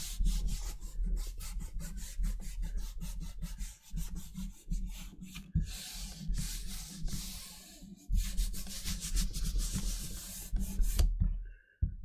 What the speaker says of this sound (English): rub this a little bit more